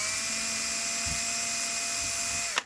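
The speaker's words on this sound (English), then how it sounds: "drill our third little hole" An electric drill whirs steadily at a high pitch while boring a small hole in an upcycled craft piece, running close and continuous for a couple of seconds before cutting off abruptly.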